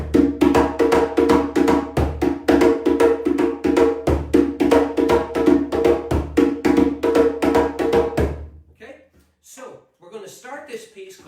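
A 1940s-style cascara rhythm is played on drums, a steady, busy pattern of sharp repeated strikes lasting about eight seconds and then stopping, followed by faint brief sounds.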